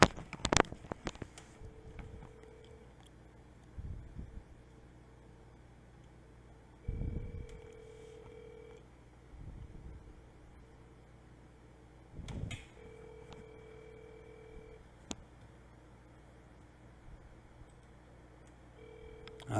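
A cell phone places an outgoing call, sounding repeated ringback tones in evenly spaced bursts with short gaps, joined by brief clicks and thumps of handling.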